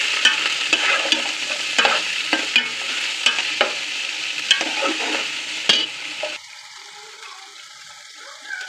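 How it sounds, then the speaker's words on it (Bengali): Shredded cabbage stir-frying in a hot pan for restaurant-style chicken fried rice, a steady loud sizzle broken by repeated scraping stirs, then dropping to a quieter hiss near the end. "পাতাকপি দিয়ে দিচ্ছি"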